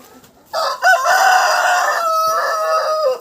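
A rooster crows loudly and close by in a yard with its hens, giving one long, sustained call that wavers in pitch. No voices are heard.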